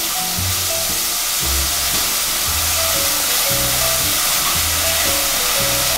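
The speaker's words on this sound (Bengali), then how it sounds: "একটা বড় সাইজের পেঁয়াজটি আমি বেটে রেখেছিলাম, সেটা আমি এটাকে একটুখানি ভেজে নেব।" Grated onion paste sizzles and fries in a pan for a Bengali gondhoraj prawn dish, a steady close hiss with faint stirring clatter throughout.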